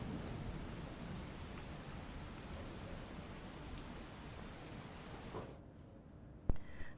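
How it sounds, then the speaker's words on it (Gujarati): Heavy monsoon rain pours down in Surat, India, in a steady, dense roar that cuts off abruptly near the end, followed by a brief knock. "જે રીતે ભારે વરસાદ સુરતમાં વરસી રહ્યો છે"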